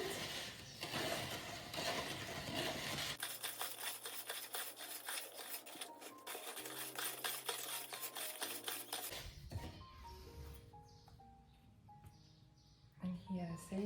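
Cement being mixed for a pathway mold: a steady gritty scraping and rubbing close by, running throughout, with background music and a few clinks.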